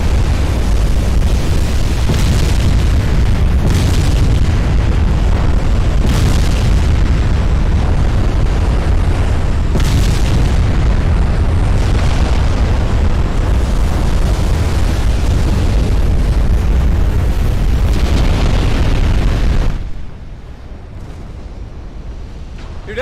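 Heavy warship explosions and booming naval gunfire in the Ultimate Admiral Dreadnoughts naval battle game, a sustained loud rumbling barrage with repeated blasts that cuts off abruptly near the end, leaving a quieter low hum.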